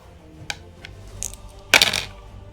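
Dice clattering onto a tabletop during a Deadzone tabletop wargame: a small tap near the start, a few light ticks, then a louder burst of rattling dice that tumble and settle over about a quarter second, with no talking.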